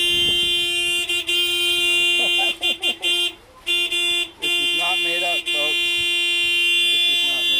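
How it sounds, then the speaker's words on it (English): A car horn honked by a beagle blares in several bursts of uneven length, some short toots and some longer blasts, with brief gaps and background chatter. "So this dog really does honk the horn."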